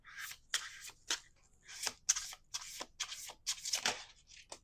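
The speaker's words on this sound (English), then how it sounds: "One last shuffle." Tarot cards being shuffled by hand, a series of quiet, close papery riffles and slides in irregular bursts with no talking.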